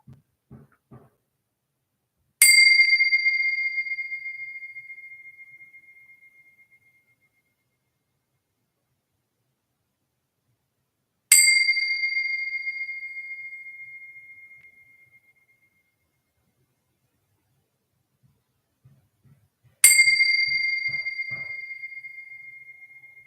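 Tibetan bells are struck three times, evenly spaced, each giving a bright, clear ring that slowly decays into silence before the next strike, with faint soft sounds between.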